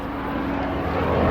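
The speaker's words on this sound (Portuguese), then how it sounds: "um avião teco-teco" A small propeller airplane of the teco-teco type passes overhead outdoors as a steady, droning engine hum that swells slightly louder toward the end of the stretch, with no voices over it.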